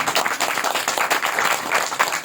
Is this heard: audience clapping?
yes